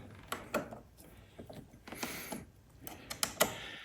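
An Allen key tightens bolts on an auxiliary light bracket in a series of soft metallic clicks and ratcheting scrapes, quiet and close, with irregular pauses between turns.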